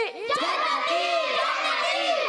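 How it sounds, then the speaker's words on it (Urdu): A group of children chant religious slogans loudly in unison at an Islamic kids' gathering, a sustained, close, energetic chorus of voices. "جی نعرے لگائیں جی صحیح سے جاندار آواز میں"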